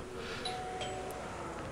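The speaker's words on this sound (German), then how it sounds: "Oh, ich muss neu klingeln." A short electronic doorbell chime rings a few times in a TKKG video game over a steady hum of background noise, clear but not loud.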